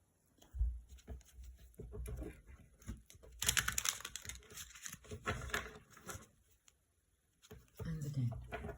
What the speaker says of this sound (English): let's give these a shuffle